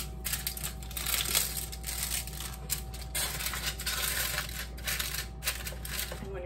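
Aluminium foil crinkling and rustling inside an air fryer as circulating air folds it over, a busy crackle of close, irregular crumpling ticks over a steady low fan hum.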